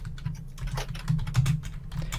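Rapid, close keystrokes on a computer keyboard clatter steadily over a low hum.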